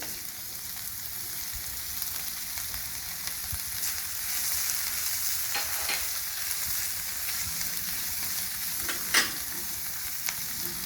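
Green chillies frying in a pan, a soft steady sizzle close by with occasional light clicks and one sharper clatter of a spoon against the pan, no voices.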